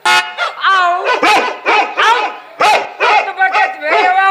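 During a comedic stage play, a performer imitates a dog with his voice, giving a rapid series of loud, close yelping barks in short bursts separated by brief pauses.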